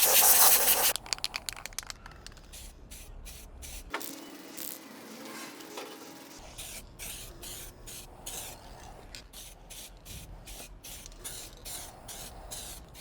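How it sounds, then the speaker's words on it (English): Plastic primer sprays from an aerosol can onto a part from an Alpina B7, with a loud opening burst and then a series of short, close hissing spray pulses in quick rhythmic succession, with no talking. "Now we're gonna use plastic primer first and then repaint it a couple of layers"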